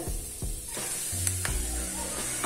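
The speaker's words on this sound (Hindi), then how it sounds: "बेसन डालकर अच्छे से भून लेंगे बेसन को धीमी धीमी आंच तक खुशबू आने तक भूनना है" Gram flour roasts in a pan with asafoetida and fenugreek seeds over low heat: a close, soft sizzle with a few scraping strokes of a spoon, and no one speaking.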